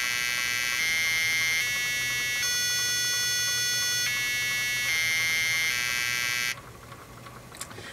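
An electronic buzzer plays a simple tune, shrill tones stepping between pitches for several seconds before cutting off to quieter background noise.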